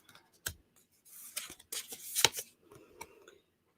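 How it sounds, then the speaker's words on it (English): Tarot cards being shuffled, a few quiet crisp riffling and sliding bursts with soft clicks, close but faint, separated by brief pauses. "they are one of my favorite cards to shuffle"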